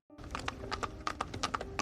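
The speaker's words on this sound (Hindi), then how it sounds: "और फिर घोड़ा गाड़ी उसने दौड़ा दी।" Horse-drawn carriage hooves clip-clopping in a quick, steady trot, a run of crisp hoof strikes close by with no talking over them.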